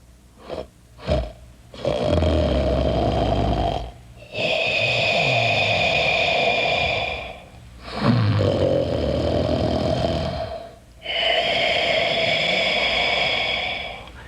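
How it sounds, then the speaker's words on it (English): Loud, drawn-out snoring roars in repeated long breaths, each rumbling inhale separated by brief pauses, close and heavy. "soon, the whole house shook with the sound of his snoring"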